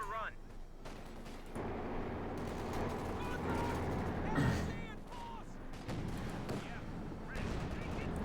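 Battle sounds from the Company of Heroes 2 strategy game, with a steady stretch of gunfire and tank cannon blasts under continuous commentary, rumbling and moderately loud.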